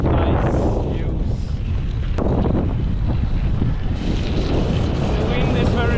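Strong wind roars across an exposed mountain stretch of the Kungsleden trail between Ammarnäs and Hemavan, heavy buffeting against the microphone with a constant loud rumble and rushing gusts, no talking.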